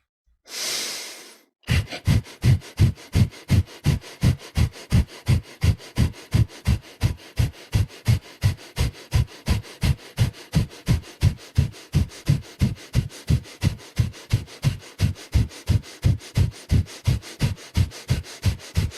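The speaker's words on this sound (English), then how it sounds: "So let's start off with the fire breath." Fire breath breathing exercise: after one long inhale, a long run of rapid, forceful rhythmic exhales through the nose, evenly paced and close, with no talking.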